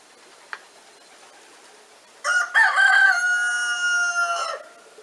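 A hoarse rooster crows once, a rough call lasting a couple of seconds after a quiet stretch with a single faint tap.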